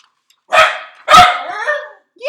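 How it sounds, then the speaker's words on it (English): Two loud, close dog barks in quick succession, with the start of a third at the end. "The dog says, yes, that's a really good book."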